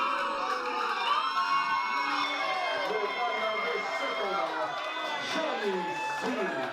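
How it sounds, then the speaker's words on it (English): A wrestling crowd at an FMLutte DOJO event cheers and shouts after a match ends in victory, a dense, sustained roar of many voices at moderate level with a commentator speaking over it. "And listen to this crowd."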